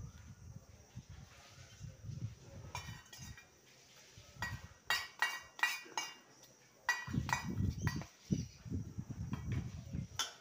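Oil poured over carom seeds (ajwain) in a bowl and mixed, heard as a run of close metallic clinks and scrapes of a spoon against the container, with soft handling noises in between and no talking.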